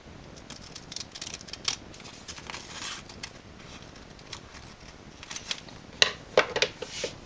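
Scissors snip through a fabric panty pattern taped down on a work surface, producing scattered quiet cuts and rustles at an uneven pace, close and faint.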